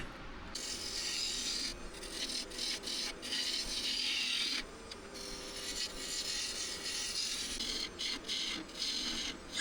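A wooden box blank spins on a lathe while its end is cleaned up to form a tenon, giving a continuous loud scraping, rasping cut with brief pauses and changes in pressure.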